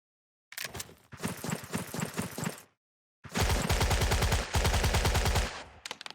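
Bursts of rapid gunfire from a World War II tactical video game, two long rattling volleys separated by a short gap, fairly loud with no talk over them.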